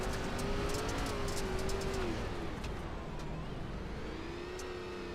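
Race cars roar around the Knoxville Raceway dirt track in an ARCA series event, a dense continuous engine drone with a rising and falling pitch as cars pass, steady and loud throughout.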